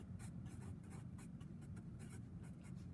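Marker or pen writing on a board or paper while working a calculus problem, a continuous scratchy rubbing of strokes over a low background rumble.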